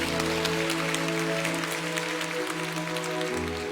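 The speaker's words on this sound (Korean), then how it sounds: "다시 한번 박수하겠습니다." A church congregation applauds after a sermon blessing, steady clapping throughout while a sustained organ or keyboard chord hums underneath.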